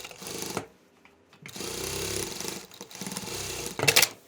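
Sewing machine stitching a cloth shopping bag: close, whirring mechanical runs in a few short bursts separated by brief pauses.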